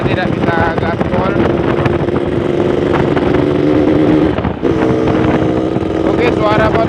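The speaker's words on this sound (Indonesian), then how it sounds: "suara motor saya kok ada berbet macam ada dosa bro" A motorcycle engine runs steadily while riding at night, a sustained droning hum with a brief dip partway through, accompanied by wind buffeting and someone talking over it.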